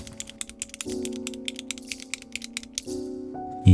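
Rapid, steady clicking of a mechanical keyboard being typed on, close and crisp, over a soft background tone.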